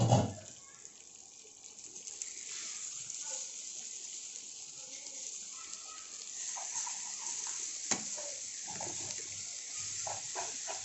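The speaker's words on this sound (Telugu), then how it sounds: "మధ్యలో నుంచి కదపండి." Stuffed brinjal curry (gutthi vankaya) being stirred in a pan, a soft steady scraping and low bubbling simmer with occasional clinks, faint and continuous with no voices.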